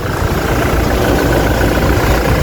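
A Toyota Fortuner 2.4 V diesel SUV idles up close, a loud, steady low rumble with an even mechanical churn and no voices over it.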